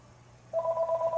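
A telephone starts ringing partway through, a single bright electronic trill that pulses rapidly after a quiet lead-in.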